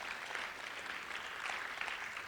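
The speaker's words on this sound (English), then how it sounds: "Let's give him a round of applause" Crowd applause at an indoor session, steady dense clapping from many hands, faint and continuous throughout.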